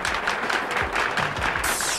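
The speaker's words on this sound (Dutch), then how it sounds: "Wat zegt u van een rondje applaus voor beide heren?" Studio audience applauding during a Dutch infomercial, a dense burst of many clapping hands, close and lively, with no speech over it.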